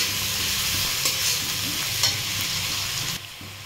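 Chopped onion and garlic frying in a pan for a Bengali eggplant mash, a loud steady sizzle with brief scrapes of stirring that drops away sharply near the end.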